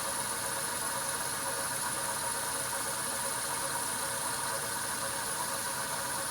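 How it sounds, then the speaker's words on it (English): A VFD cooling fan whirs in a steady, even broadband drone beside a quietly running Myford Super 7 lathe motor, constant and unchanging throughout. "the cooling fan in the VFD is louder than the motor and drive systems on the blade itself"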